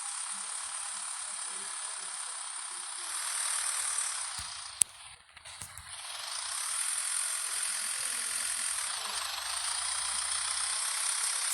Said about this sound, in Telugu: సేమ్ జేసిప్ సౌండ్ వస్తుంది గైస్ వచ్చేసి